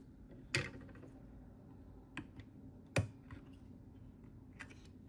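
RAM module retaining clips are released inside a Lenovo ThinkCentre M93p Tiny: three sharp, close plastic clicks spaced a second or two apart, plus faint handling noise, with no talk.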